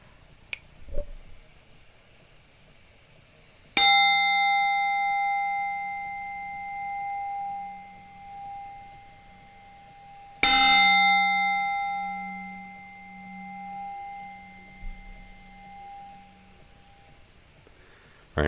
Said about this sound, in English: I'm going to hit the blade with a piece of wood.